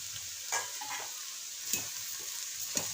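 Shredded cabbage stirred into a sprouted moong sambar: a quiet, close scraping and stirring with a low simmering hiss, marked by three brief clinks of a spoon against the pot.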